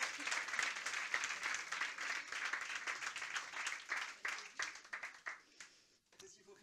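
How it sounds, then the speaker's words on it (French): An audience at an advertising awards evening claps in a dense burst that thins out into scattered claps and fades near the end, with faint voices mixed in. "Ben, vous pouvez l'applaudir."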